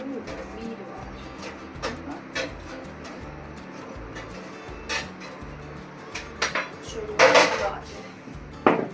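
Pots and a pressure cooker handled while cooking in a home kitchen, with scattered metallic clinks and clatters, a few louder knocks near the end, and a person talking throughout.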